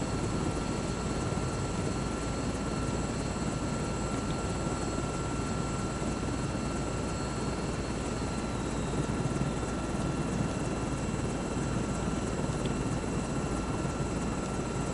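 A helicopter's rotor and turbine drone steadily and evenly in Microsoft Flight Simulator 2024, a constant dense whir with a faint high whine and no voices.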